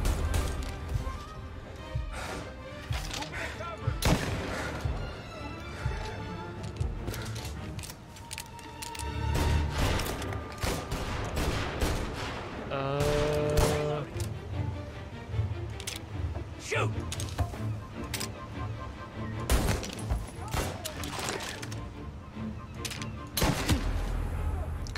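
Tommy gun fire in Mafia Definitive Edition, repeated bursts and scattered shots with crashes and impacts spread across a long chaotic firefight, mixed with game sounds and some talk.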